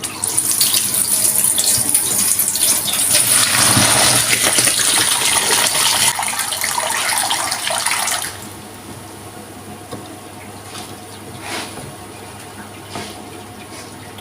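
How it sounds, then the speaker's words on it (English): Cooked pasta water poured from a pot into a kitchen sink, a loud steady gush for several seconds that suddenly drops to light trickles and drips. "So we're just going to drain our pasta now."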